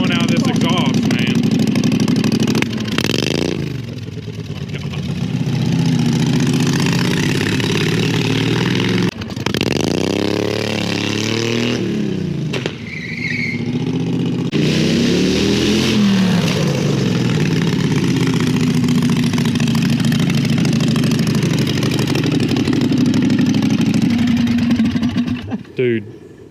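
Loud V-twin go-kart engine with a custom header and intake mods, idling roughly and close with several quick rev blips throughout, while people talk over the racket.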